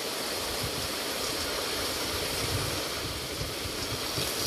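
Water splashes and sprays continuously during Typhoon Kristine, a dense, loud rushing wash with steady surging texture and no pauses.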